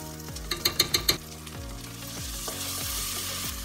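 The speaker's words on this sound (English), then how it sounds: "we need to add the fresh ginger and fry together for another 1 minute or 2 minutes" Fresh ginger frying in a pan with garlic and tomato, a close steady sizzle broken by a few quick clanks of stirring near the start, with no voices.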